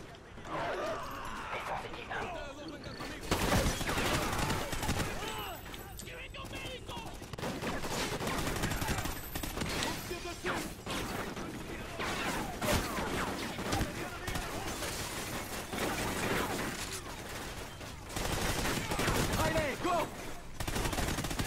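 Gunfire in the video game Call of Duty: Ghosts, dense bursts of shots and automatic fire that keep going throughout with barely a pause. Voices talk over the shooting at times.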